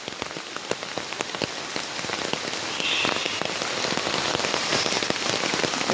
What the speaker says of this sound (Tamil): இப்படி மழை பெஞ்சா என்ன செய்கிறது சொல்லுங்கள், நீங்களே சொல்லுங்கள்.